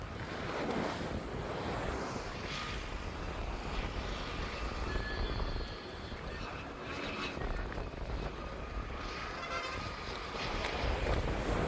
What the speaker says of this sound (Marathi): लाटांचे आवाज बघा कसे आहेत.